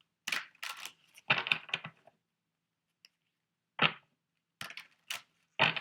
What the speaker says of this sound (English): I just want to make sure I shuffle them up real good